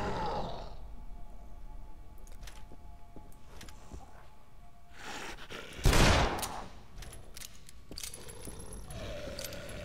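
Gunfire in the zombie game Dead Island: a burst of shots stands out around the middle over a steady game ambience, with scattered clicks and clatter before and after.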